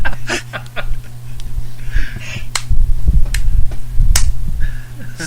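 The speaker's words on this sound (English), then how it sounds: "Slow clap, slow clap." A few separate hand claps, sharp and close, sounding among chuckles and laughter from several people on a podcast, with a low steady hum underneath.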